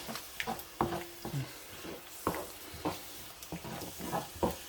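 A tomato, garlic and paprika chicken pasta sauce with stock simmering in a pan, a low bubbling hiss broken by frequent soft pops and spits at an uneven rhythm, close and fairly quiet, with no talking.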